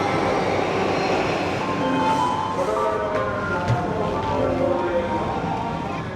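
A Japanese double-decker train on the Yokosuka line rumbles steadily from close by, with a dense rolling roar and faint voices under the noise.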